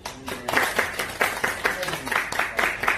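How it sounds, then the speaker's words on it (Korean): Scattered hand clapping from a small audience at a dog handler and walking specialist certificate ceremony, uneven claps over a voice in the room, moderately close. "박수 한번"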